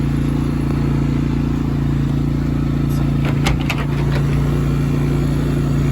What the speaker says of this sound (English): can hear the compressor kicking on